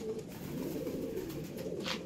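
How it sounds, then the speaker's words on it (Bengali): Kohinoor breed pigeons kept for home breeding coo in a steady low, throaty murmur throughout, close and continuous, with no voices. "কোহিনূর পায়রা। এই কোহিনূর পায়রা"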